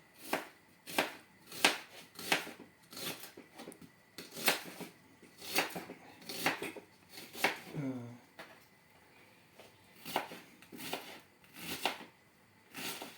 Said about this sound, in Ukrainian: Ми зараз багатенько цибулі ріжемо.